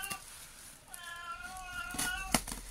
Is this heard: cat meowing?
yes